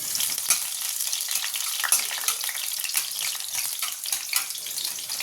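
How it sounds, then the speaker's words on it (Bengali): Garlic sizzles steadily in hot oil in a wok, a loud dense crackle and hiss holding continuously throughout with no voices. "এই রসুন ভাজার সময় যে স্মেলটা দেয় না"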